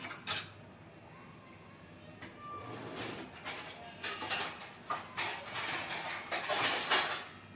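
A metal lid is set over a pot of moong dal and spinach, with a few clinks and scraping clatters of cookware close by, some louder knocks toward the end.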